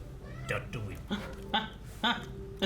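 A Loth cat from the animated series Star Wars Rebels gives several short meows and chirps in quick succession, close and fairly faint, alongside bits of talk.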